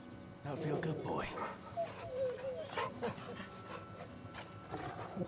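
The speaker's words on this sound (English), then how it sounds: "That's my dog." A dog in the video game Final Fantasy XVI whimpers and gives a few short barks and yips near the listener, mixed with game ambience and a voice speaking.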